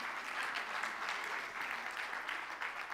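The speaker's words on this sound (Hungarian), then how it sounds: "Egy tapsot azért megérdemlünk" Steady applause from a gathered audience, a continuous even patter of many hands clapping, moderately loud throughout with no speech over it.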